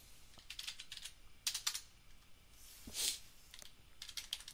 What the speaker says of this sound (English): And we type in our password again.